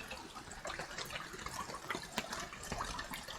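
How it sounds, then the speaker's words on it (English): Water trickles and splashes into a container in the survival game Escape the Pacific, a soft, continuous pouring with faint bubbling, fairly quiet and close. "Oh yeah, it's getting some water in there."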